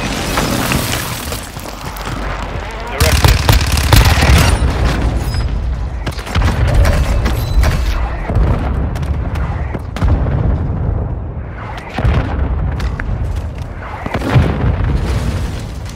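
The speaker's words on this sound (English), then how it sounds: "Hostile mortar strike incoming!" Mortar strike explosions in the video game Call of Duty Warzone Mobile, a rapid series of loud, heavy booms and crackling blasts landing close by, repeating every second or two with short gaps between impacts.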